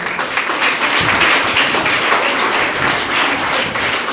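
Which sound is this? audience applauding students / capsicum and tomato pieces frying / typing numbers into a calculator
audience applauding students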